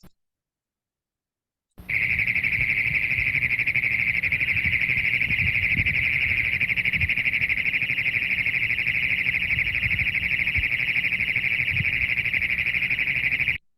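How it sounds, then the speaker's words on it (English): A Great Plains toad holds one long, loud, unbroken mechanical trill, steady and close, running for more than ten seconds after a short silence. "And that kind of wavering mechanical trill of the Great Plains toad."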